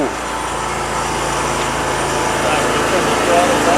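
A trailer-mounted sewer jetter's engine runs at a steady high-pitched drone as it throttles down toward idle, loud and close throughout.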